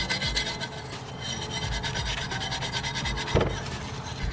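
Old hardened grease being scrubbed off 12V Cummins engine parts during a valve gasket replacement, a steady close rasping rub with repeated strokes and a brief louder scrape near the end.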